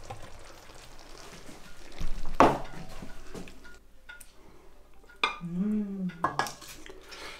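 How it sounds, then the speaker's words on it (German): Chili and hoisin tofu served from a pan onto a plate: a sharp clatter of utensil on cookware, then scraping and light clinks of food sliding onto the plate, with a soft voice murmuring briefly near the end. "So, jetzt tun wir davon ein bisschen was von auf den Teller."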